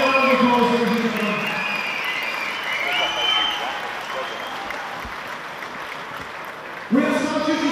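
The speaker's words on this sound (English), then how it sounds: "Let's give them all these big round of applause, ladies and gentlemen." An audience at a Fight UK featherweight MMA event applauds after a fight. Broad crowd clapping and cheering rise between stretches of a voice talking over a PA and continue steadily at moderate loudness.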